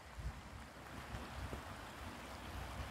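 Steady broadband rushing of the Tagliamento river flowing, heard at water level, fairly faint and continuous, with no voices.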